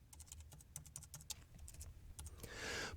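Rapid keystrokes on a computer keyboard, a close, steady patter of clicks for about two and a half seconds, followed by a brief rush of broadband noise at the end.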